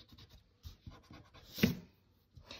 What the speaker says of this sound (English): So now erase in there.